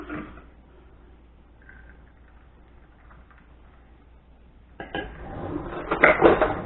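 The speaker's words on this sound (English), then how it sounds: "We give that a little stir." A kombucha cocktail with tequila and seltzer is stirred in a glass: quiet at first, then a spoon clinks and rattles against the glass in quick, close bursts toward the end.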